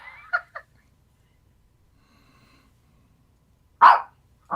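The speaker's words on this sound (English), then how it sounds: "And the dog barks." A dog barks twice, short sharp barks heard at moderate distance, with a quiet gap between them and no talking.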